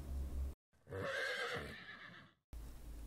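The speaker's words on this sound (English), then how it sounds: "Horse." A horse gives one loud, close whinny that lasts nearly two seconds and rises then falls away, framed by brief bursts of other noise.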